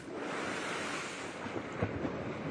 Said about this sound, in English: the storm surge picking up